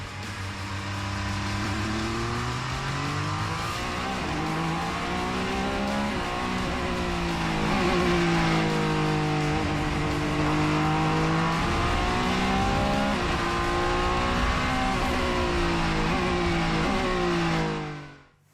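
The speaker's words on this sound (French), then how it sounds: "On a tout d'abord eu le droit à un tour de circuit à bord de la 9X8 et entendre le bruit du moteur." Peugeot 9X8 race car engine roaring through a lap of a circuit, loud and continuous, its pitch rising and falling steadily as it accelerates and shifts, with no voices over it.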